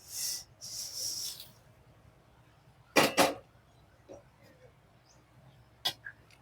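Sorghum grains being dry-roasted in a pan after urad dal, heard as short scraping and rustling bursts of stirring separated by quiet gaps, close and fairly soft.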